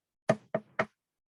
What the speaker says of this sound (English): she went out and she knocked on the door to the right